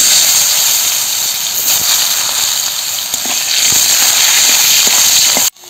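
Cut potatoes frying in oil in a wok with whole cumin and bay leaf, a loud, steady broadband sizzle that runs unbroken and close before cutting off abruptly at the end.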